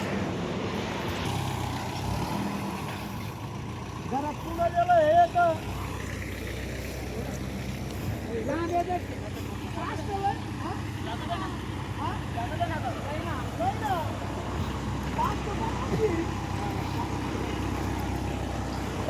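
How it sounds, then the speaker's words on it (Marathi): A small tractor sowing seed in a rain-soaked farm field gives off a steady, low engine drone throughout, with a brief louder surge early on and people talking over the hum. "हे बघा चाललंय ट्रॅक्टर पुढं पेरणी करीत."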